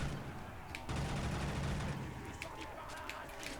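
Rapid gunfire from an upgraded K12 gun in a Call of Duty zombies custom map, bursts of shots under a voice speaking French.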